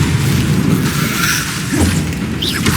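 A disarming spell fired in a fantasy wizard combat game, a dense booming magical blast with a whooshing swell that sustains loudly for a few seconds under continuous game sound.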